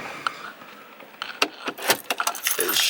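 Car keys jangle and clink as the ignition is switched off in a parked car during a dashcam installation, soft metallic rattles growing busier toward the end, close and moderately quiet.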